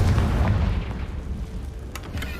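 A Confringo fire spell detonates in Hogwarts Legacy with a loud, deep boom, its rumbling low-end blast sustained and slowly fading over a couple of seconds.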